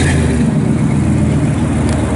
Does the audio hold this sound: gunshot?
no